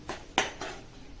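Black masala paste being sautéed in oil in a pan for a whole masoor lentil curry, heard as three or four quick spatula scrapes and clinks against the metal over a low sizzle, close and without voices.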